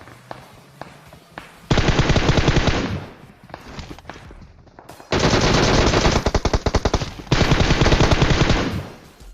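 M4 assault rifle gunfire in PUBG Mobile, firing in several long, loud automatic bursts of rapid shots separated by short quieter pauses.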